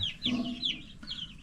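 Chickens and chicks cluck close by in a short series of calls, one hen's clucks overlapping with higher chick peeps, with no one talking.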